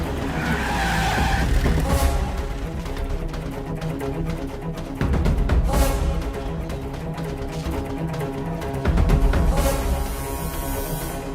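Tires screech in a car skid staged as a film sound effect, with three loud sustained squeals in a row, each swelling and fading, over a dense rumbling mix.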